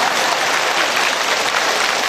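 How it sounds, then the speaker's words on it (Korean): Audience applause fills a church hall during a Catholic priest's talk, a dense, steady wash of many hands clapping close and loud throughout, with no talking over it. "박수 치세요."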